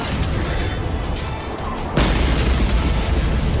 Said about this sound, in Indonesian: Hu Yihou langsung menyerang mereka menggunakan teknik ledakan es.